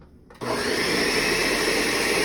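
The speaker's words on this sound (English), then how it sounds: "we're ready to blend. Easy as that. Lid on. About to get loud." A blender purees a peanut-sesame noodle sauce with jalapeno, kicking on suddenly after a quiet moment and then roaring loud and steady, a close, continuous motor whir with no talk.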